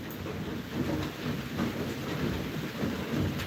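Heavy rain drums steadily on an iron sheet roof, a dense, even wash of noise with no breaks and no voices.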